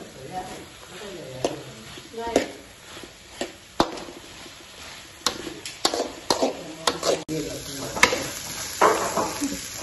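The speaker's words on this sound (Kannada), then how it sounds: "ತರಕಾರಿ ಬೇಯೊಂದು ಬರ್ತದೆ" Vegetables frying in a pan with ginger garlic paste for noodles, giving a steady sizzle broken by repeated sharp scrapes and clinks of stirring, close and fairly loud, with some voices present.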